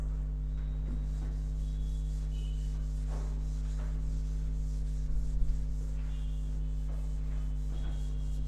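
A cloth or duster rubbing a classroom board, soft scrubbing strokes repeated irregularly over a steady electrical hum, fairly faint and with no voices.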